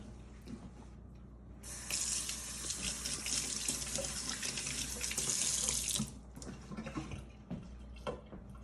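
A kitchen tap runs strongly for about four seconds while someone washes during apple pie preparation, with a steady rushing splash that starts abruptly, then stops, leaving soft kitchen clatter.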